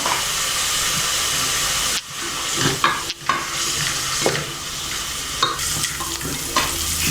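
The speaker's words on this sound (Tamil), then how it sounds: "வெங்காயம் நல்லா வதங்கிடுச்சு." Onions sautéing for mutton biryani, salted, in a hot pan: a steady loud sizzle broken by repeated scraping stirs of a spoon, heard up close with no talking.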